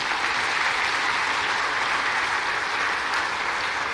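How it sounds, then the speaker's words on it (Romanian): Applause from the audience at a folk music festival contest in Timișoara, dense steady clapping from a large crowd, continuous and fairly loud throughout with no talk over it. "Vă mulțumim pentru aplauze"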